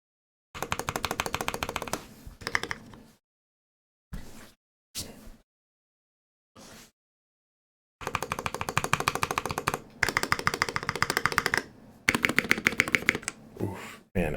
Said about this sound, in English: These holy pandas are so loud.